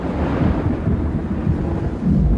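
Thunder rolls as a storm overtakes the airship Shenandoah over Ohio in 1925, a loud, sustained low rumble with rain and wind texture running steadily for a couple of seconds.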